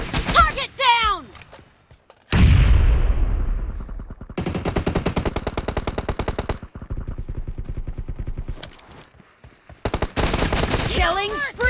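Automatic rifle fire in the team deathmatch shooter PUBG, loud close bursts of rapid shots in several long strings separated by brief pauses, with game voice callouts mixed in.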